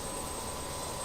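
Jet engines of a PMDG Boeing 737 in Microsoft Flight Simulator, a steady, even broadband roar with no talk.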